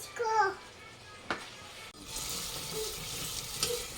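Chicken biryani masala fries in a pan, a soft continuous sizzle with a few stirring knocks, while a voice speaks briefly at the start.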